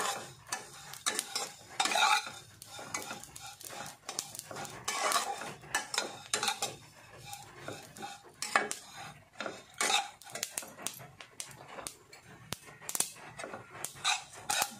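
Grated coconut and sesame seeds roast in a hot kadhai for homemade laddoos, stirred briskly with a spatula that scrapes and clatters in quick, irregular strokes over a faint sizzle.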